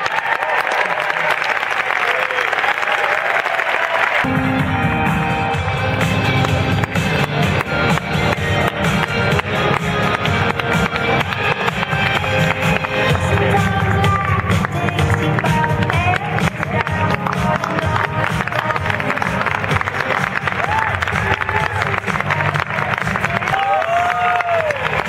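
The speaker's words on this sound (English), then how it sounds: "please give a warm applause for Rodriguez." Large audience at a Sundance award ceremony breaks into loud, sustained applause after a brief quiet opening, dense clapping continuing throughout with some cheering mixed in.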